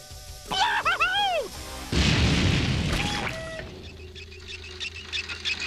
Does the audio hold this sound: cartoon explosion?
yes